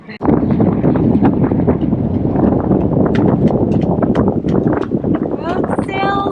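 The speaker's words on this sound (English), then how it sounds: "It's pretty stinking windy." Strong wind roars steadily across the microphone aboard a sailboat under sail, a loud continuous rush with brief knocks and a short high squeak near the end.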